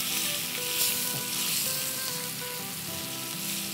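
Onions and vegetables for chicken fajitas sizzle loudly in a hot pan, a dense continuous crackle close up with a few faint stirring touches and no talking.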